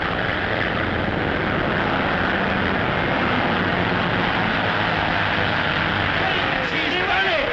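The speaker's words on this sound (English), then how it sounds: "By Jove, but that plane is handling well." A racing plane's engine drones steadily and loudly throughout as the aircraft flies past, a continuous broadband roar with a faint propeller hum beneath, with no clear voices.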